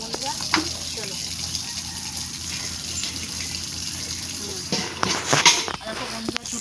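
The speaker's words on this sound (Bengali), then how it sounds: "চলো আমি এবার বোতলগুলো জল পুড়ে নিই" Water runs steadily from a tap or pipe into bottles outside a mud house, a low continuous flowing hiss with a few louder splashy moments near the end.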